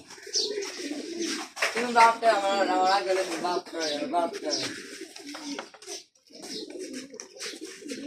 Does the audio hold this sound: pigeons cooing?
yes